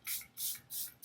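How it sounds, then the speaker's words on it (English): Charlotte Tilbury makeup setting spray misted in four short hissing bursts, each lasting about a quarter second with brief gaps, close and clear with no talking. "setting spray."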